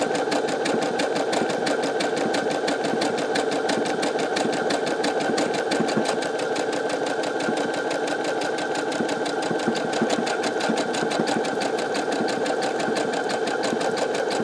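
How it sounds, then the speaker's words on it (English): A Brother SE625 sewing and embroidery machine stitches a buttonhole on its own, giving a steady, fast mechanical whir and needle clatter that runs loud and unbroken throughout with no talk. "once the sewing's completed, the machine will automatically sew a reinforcement stitch, and then it will stop"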